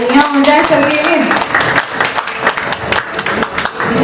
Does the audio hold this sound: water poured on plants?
no